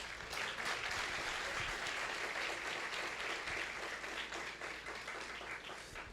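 An audience at a church conference applauds steadily, a quiet, even wash of many hands clapping that holds for the whole stretch, heard from some distance with no talk over it.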